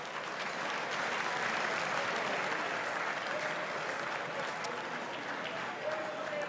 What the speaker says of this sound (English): So one more applause for Michael,